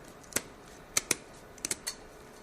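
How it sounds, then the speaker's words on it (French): Kitchen scissors snipping the fins off a scaled fish, six sharp, crisp clicks spaced irregularly, some in quick pairs, close and clear against a quiet background. "On va prendre une paire de ciseaux et on va couper en partant de la queue vers la tête."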